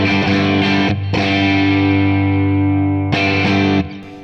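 Electric guitar played through a Kemper profile of a Vox AC30 amp with a JOD drive engaged, loud and sustained, with distorted chords ringing out, then cut off and restruck twice before fading.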